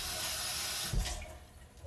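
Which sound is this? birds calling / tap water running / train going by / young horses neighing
tap water running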